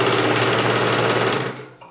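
A sewing machine runs at a steady fast buzz while stitching elastic onto a bikini strap, close and continuous, then slows and stops near the end.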